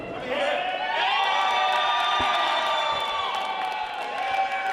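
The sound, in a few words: wrestling crowd cheering for Dalton McKenzie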